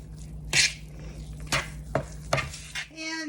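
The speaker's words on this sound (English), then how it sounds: "And mix that in." A spoon scrapes and taps against a bowl as cinnamon and nutmeg are stirred into blondie batter, giving a few separate strokes over a quiet background, with a short, brighter scrape near the end.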